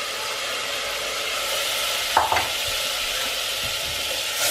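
Shrimps drop into foaming butter in a frying pan for pan-fried halibut, giving a brief louder burst of sizzle and stirring over a steady broadband frying hiss.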